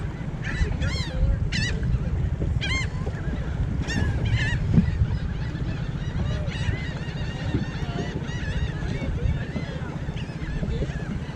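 Geese honking repeatedly over steady water and engine rumble, with a few calls standing out loudly and others blending into a busy outdoor din.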